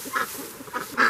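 Ducks being herded into a muddy, straw-lined pen quack in short nasal bursts, three calls in quick succession with the last the loudest, close by and without talk.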